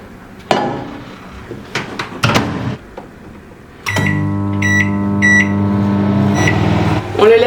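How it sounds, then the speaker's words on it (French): A microwave oven runs with a bowl cake batter inside, its steady mains hum with harmonic lines starting after a few door and handling clunks, close and fairly loud, with a brief beep-like tone near the end. "Et on va simplement le mettre dans le micro-ondes."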